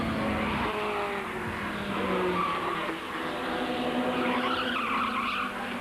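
Formula Ford 1600 race cars from 1991 dice closely at Brands Hatch, with engines droning and whining together and tires scrabbling, a continuous but fairly faint trackside roar.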